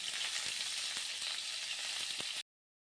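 Pointed gourd (potol) pieces sizzling in hot oil with turmeric in a pan, a steady, close frying hiss with faint crackles, then cut off abruptly.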